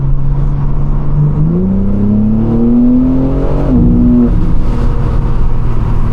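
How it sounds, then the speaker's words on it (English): A BMW G80 M3 with an aftermarket exhaust in Sport Plus mode hums steadily while driving, its pitch rising smoothly under acceleration before shifting down, with a low rumbling exhaust tone and burbles throughout. "You can already hear the burbles, those nice burbles."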